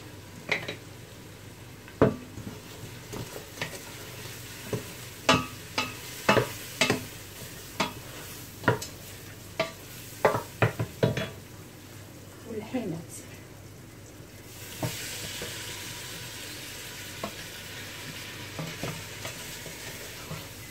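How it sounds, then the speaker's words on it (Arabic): Meat stirred with spices in a pot for a Moroccan tajine with turnips and chickpeas, a steady soft sizzle broken by repeated sharp scrapes and clanks of a utensil against the pot, moderately close. "دابا غادي ندور داك اللحم بحال هنا باش يشرب التوابل"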